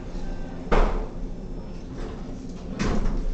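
A Montgomery hydraulic elevator, modernized by CKG/ThyssenKrupp, at a Bloomingdale's store: the door slides shut with a burst of sliding noise at the start and a second softer thump near the end, heard alone in a quiet, slightly hollow space.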